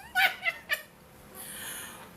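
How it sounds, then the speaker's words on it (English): Cat meowing indoors: a few short, close meow-like cries in quick succession, followed by a softer, drawn-out whine, with no talking. "Sorry, y'all, I got cats."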